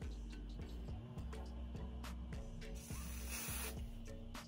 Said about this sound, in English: add a little spray to it to hold down the front a little bit